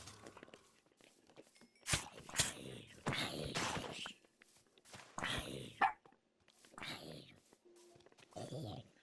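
Puppy barks in the video game Minecraft, several short bright yaps scattered over a few seconds, mixed with other game noises and close sounds.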